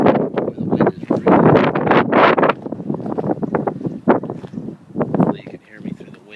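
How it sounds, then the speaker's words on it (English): Gusty outdoor wind buffets the microphone beside a 2001 Dodge Ram diesel pickup, producing low rumbling bursts that rise and fall under a man's continuous speech. "hopefully you can hear me through the wind right now."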